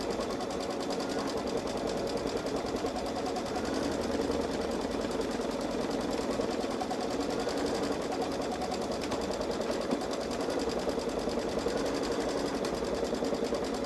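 Baby Lock Solaris sewing machine stitching an edge-to-edge quilting pattern on a sweatshirt, a steady fast mechanical hum and patter that continues unbroken, close and moderately loud.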